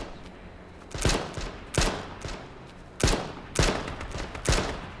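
Gunfire in the battle royale game H1Z1: loud bursts of shots, several quick volleys spaced about a second apart, crisp and close with short echoing tails.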